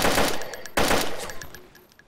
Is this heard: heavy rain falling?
no